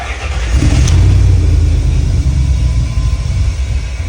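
A 1971 Jeep Gladiator truck's engine, not run for a while, turns over and catches, then settles into a loud, rough, rumbling idle up close with no talk.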